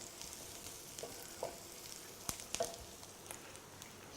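Softening onions fry in a pan with a faint, steady sizzle and a few small pops and stirring scrapes, quiet and close.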